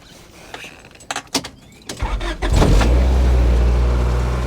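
A Honda Odyssey minivan starts up: a few light clicks and key handling, then the starter cranks briefly and the engine catches into a steady, close idle that holds to the end, with no talking.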